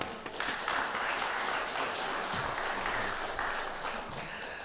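A church congregation at a Sunday service claps to welcome the pastor, a steady wash of many hands applauding together, moderately distant and even in level.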